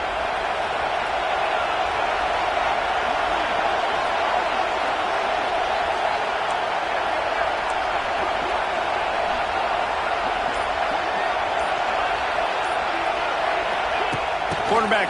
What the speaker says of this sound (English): This crowd knows when to bring it.